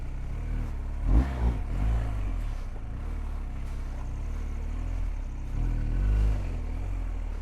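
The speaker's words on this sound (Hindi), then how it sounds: "अभी ऊपर चढ़ने में सबसे ज़्यादा डिफ़िकल्ट है." Adventure motorcycle engine labouring up a steep, slippery slope, a steady mid-level drone with a couple of louder surges as the throttle opens, heard close with no talk.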